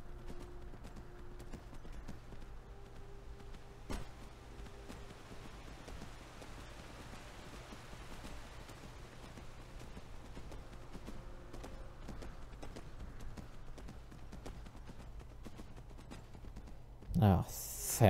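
Horse hooves clip-clop at a steady walking rhythm in Skyrim, close and moderately loud over a constant low game ambience, with brief louder thumps near the end.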